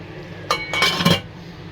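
A lid is set onto a cooking pot of simmering beef, giving a few close metallic clinks and rattles in quick succession against a quiet background, with no talking.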